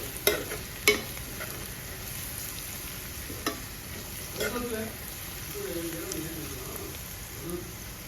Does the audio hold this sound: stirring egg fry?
yes